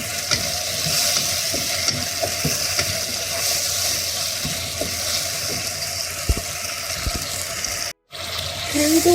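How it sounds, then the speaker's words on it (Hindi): Chicken Manchurian sauce sizzles steadily in a pan as water is added, with a constant frying hiss, some stirring clicks and a brief cutout near the end. "अब इसमें थोड़ा पानी ऐड करूँगी"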